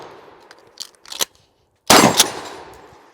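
A Mossberg M590A1 left-side-eject pump shotgun racked, fired, then combat reloaded: metallic clacks of the action and shell handling, a pause, then one loud close-range blast with a short decaying tail.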